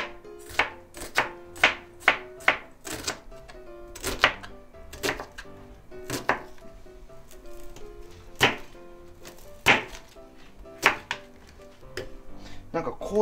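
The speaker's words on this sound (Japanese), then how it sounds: "まず玉ねぎを千切りにしたいんですけど" A knife chops an onion on a cutting board in irregular crisp knocks, some in quick runs and others spaced apart, close and distinct, with someone talking between the cuts.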